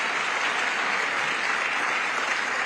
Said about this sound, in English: Can you guys give a round of applause for the TBA team?